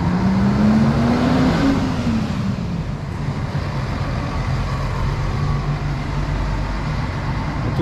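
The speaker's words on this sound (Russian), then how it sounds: "проедет автобус." A bus passes close by on a road. Its loud engine roar rises in a whine and then settles into a steady, heavy rumble as it goes past.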